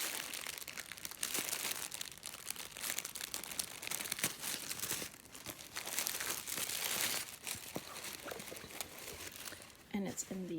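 Tissue paper packing around a Saint Laurent bag crinkles and rustles steadily as it is unwrapped, close and continuous across the whole stretch, with a brief sharper rustle near the end.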